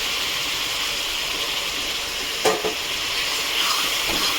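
Ground turmeric, chili powder, coriander and cumin sizzling in a pan for mutton kosha as a splash of hot water goes in, a steady loud hiss with a sharp burst midway and light clatter after.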